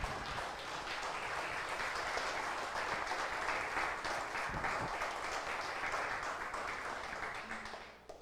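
Sustained applause from a church congregation during a sermon, dense and steady for about seven seconds before tapering off at the end.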